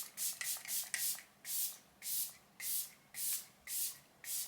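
A makeup setting spray bottle fires about nine short, breathy mists in a steady rhythm, close by, with brief pauses between pumps.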